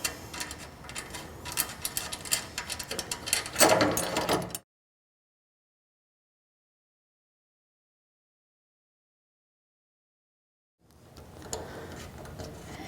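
A bolt and nut on a Laguna F1 Fusion table saw are tightened with rapid metallic ratcheting clicks and knocks, then a long silence, then a few quieter mechanical clicks.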